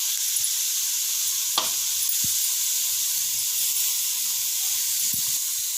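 Ground chili paste sizzling steadily as it is added to beetroot in a hot pan, a constant bright hiss close by with a few scraping and stirring knocks, no talking.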